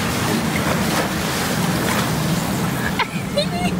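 Steady rumble and splash of a boat moving over water in Venice, Italy, engine and wind noise throughout, with faint chirps near the end.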